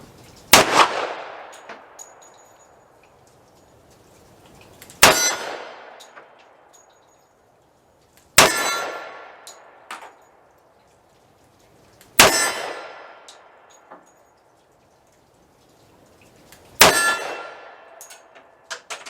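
Five 10mm shots from an M&P 2.0 pistol firing 200-grain jacketed hollow points ring a steel plate target, each loud sharp report and clang spaced several seconds apart with a ringing decay and no talk.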